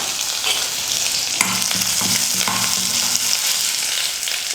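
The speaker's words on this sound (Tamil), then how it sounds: "இப்போ கருவேப்பிலை சேர்த்துக்கிறேன்." Curry leaves crackle and sizzle loudly in hot oil in a pan while making ragi upma, a dense steady frying hiss with bursts of popping and occasional stirring scrapes.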